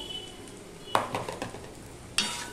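Soaked, drained sabudana tipped into sautéed vegetables in a pan and stirred, giving quiet scraping and shuffling with two sharp clanks of a utensil against the pan.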